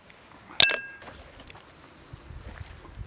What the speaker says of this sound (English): Clink.